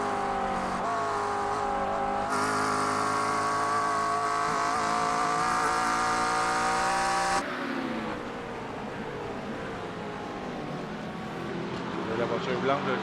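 GT3 race cars, including a McLaren, racing at Sebring: a steady, loud engine drone with shifting pitch, fading somewhat partway through, under continuous commentary.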